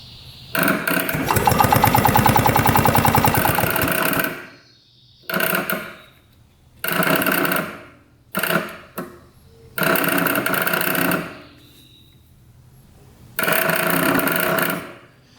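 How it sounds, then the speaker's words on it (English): A 1965 two-stroke scooter engine cranks over in about six loud, close bursts of rapid mechanical chugging, each separated by short silent pauses, with no voices. "Was cranking over just fine."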